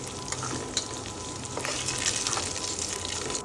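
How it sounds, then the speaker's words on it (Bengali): Cinnamon, a bay leaf and salt temper in hot oil with a steady, close sizzle and a few light stirring taps. "দারচিনি, একটা তেজপাতা এবং একটু পরিমাণ মতো লবণ দিয়ে ফোড়ন দিয়ে নেব"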